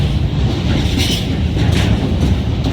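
A train runs steadily past at Stratford station on the Great Eastern Main Line, giving a loud, continuous rumble with a rolling rail clatter and no voices.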